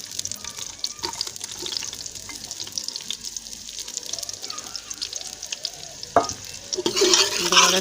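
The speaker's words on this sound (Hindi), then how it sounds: "इसी तरह हम इसमें डालेंगे प्याज 2 अदद" Two onions frying in half a cup of ghee, being stirred in a pan: continuous close sizzling broken by frequent scrapes and clinks of the spoon, with a brief splash of running water near the end.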